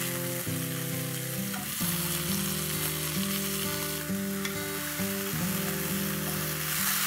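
Soaked chana dal and urad dal frying in a pan, a continuous sizzle under a loud, steady layer of background music, with no talking.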